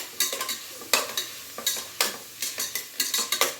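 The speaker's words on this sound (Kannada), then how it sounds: "ಚೆನ್ನಾಗಿ ಈರುಳ್ಳಿನಲ್ಲಿ ಫ್ರೈ ಮಾಡ್ಕೊಂಡ್ಬಿಡೋಣ. ಈರುಳ್ಳಿ ಫ್ರೈ ಆಗ್ತಿದೆಯಲ್ಲ" Two lengthwise-sliced onions fry in a pan as a spatula scrapes and tosses them in quick repeated strokes over a light sizzle, close and clear, without talk.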